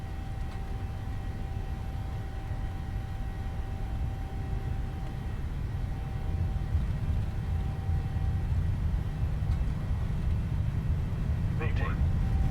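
Boeing 737-800 takeoff roll in a PMDG flight simulator departing Doha Hamad International, a steady low engine roar and rumble building gradually louder as the jet accelerates down the runway.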